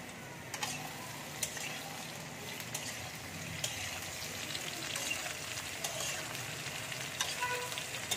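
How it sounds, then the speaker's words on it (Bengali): Sliced ridge gourd fries in hot oil in a pan, a soft, steady sizzle with scattered light crackles and a few faint clicks, heard alone at low volume. "এবার আমি ঝিঙেটা দিয়ে দিচ্ছি"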